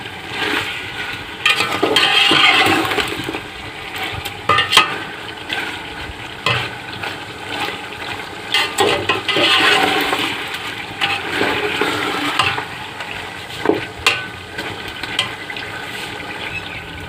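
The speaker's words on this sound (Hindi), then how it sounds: "एक मिनट तक इसको पकाएंगे ताकि ये सारा मसाला अच्छी तरह से चिकन के अंदर डस्ट हो जाए।" Chicken karahi sizzles in a pan as masala is stirred through it, a steady loud frying hiss with scraping stir strokes throughout, no voices.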